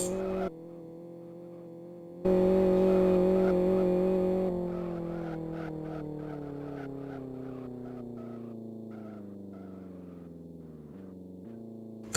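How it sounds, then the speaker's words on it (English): A race car at the 2012 Kent AutoPrix drives onto the starting grid from the skid pad, giving a sustained engine drone that swells, then slowly drops in pitch as it carries on alone. "that is most likely a car joining the grid"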